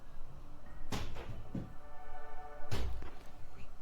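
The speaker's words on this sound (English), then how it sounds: "often hears unexplained knocking and slamming sounds on his windows and doors" Unexplained knocking and slamming on the windows and doors of a haunted home, heard as two sharp, loud thuds about two seconds apart, each followed by a softer knock, against a low background hum.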